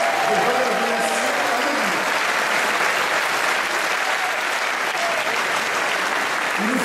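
Loud, sustained applause from a large crowd filling a hall at a French political rally, steady and unbroken throughout with faint voices underneath.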